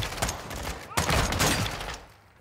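Gunfire in the Modern Warfare 2 video game campaign, two quick loud bursts of shots close together, with the second fading away toward the end.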